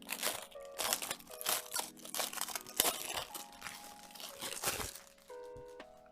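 Packaging for a Razer Huntsman Mini aluminum-framed keyboard being opened: close, busy crinkling, crunching and tearing of cardboard and plastic in irregular bursts, with no talking.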